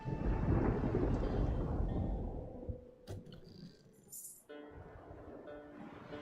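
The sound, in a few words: thunderstorm at sea in a video game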